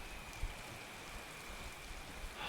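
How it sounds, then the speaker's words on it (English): Soft, steady rain falls in the video game Skyrim as a faint, continuous hiss of patter with no other sounds. "Let's get out of this rain."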